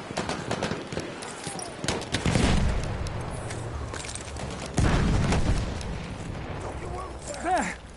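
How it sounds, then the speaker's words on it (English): A grenade blast and scattered gunfire in Battlefield 1 multiplayer, deep booming explosions midway through with crackling shots around them and a player shouting over the din. "Grenade going now!"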